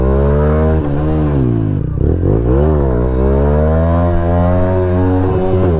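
Small stunt motorbike engine revving hard and close, a loud buzzing tone that rises and falls through several throttle blips, continuous over the whole stretch with no talk.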